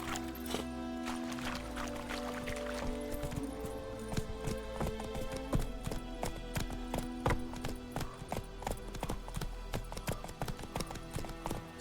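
Roach, the horse in The Witcher 3, galloping at speed, hooves drumming in a fast rhythmic clip-clop that stays close and steady, with game music or ambience beneath and no voices.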